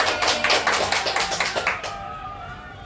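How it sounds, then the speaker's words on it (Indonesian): School teachers at a lower secondary school gathering clap together after singing a song, a brisk burst of hand claps for nearly two seconds that quickly dies away into quiet room tone. "Tepuk tangan."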